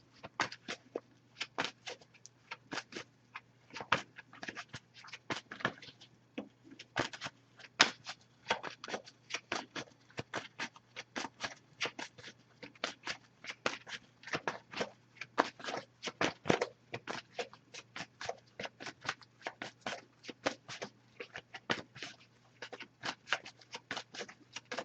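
Oracle cards from a Wisdom Oracle deck are shuffled and drawn during a tarot reading: a steady stream of quick, crisp papery riffles and flicks with no talking.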